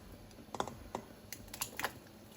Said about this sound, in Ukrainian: Порізали нашу картопельку кубиками і відправляємо